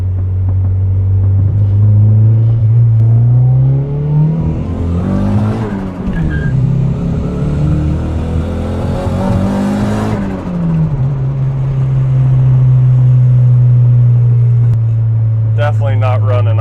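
A turbocharged Honda Civic engine running rough from low fuel pressure, a loud, close, uneven idle that swells into a revving rise and settles back to a steady rumble, with brief talk near the end.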